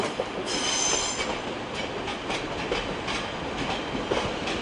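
A Class 142 diesel train pulls into Manchester Piccadilly station, a steady rumble of wheels on rail with faint squealing and clicks, heard from the platform at moderate distance with no talk.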